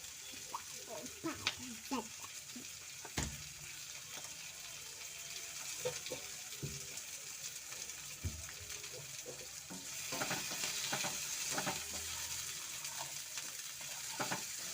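Pepper chicken fries in a pan while a utensil stirs it, producing a steady sizzle broken by scraping and clinking, with the frying growing louder and denser toward the end.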